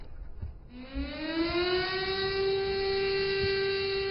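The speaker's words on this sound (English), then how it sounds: "A siren symbolizing grief bled across the Nanjing city" An air raid siren rises from a low tone to a sustained, steady wail across Nanjing city in a tribute, loud and tonal with no voices over it.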